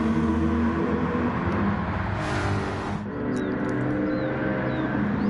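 Racing car engine from a PS4 racing game, pulling through a tight left-hander then powering back on: a steady, loud engine roar with a brief dip around a gear change before climbing again.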